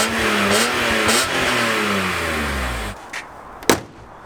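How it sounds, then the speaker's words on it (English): A BMW E46 M3 straight-six revs up loudly and smoothly, the pitch climbing and falling across a few seconds before dropping back, followed by a couple of brief knocks and a sharp clack near the end. "So the engine does sound really good, nice and smooth."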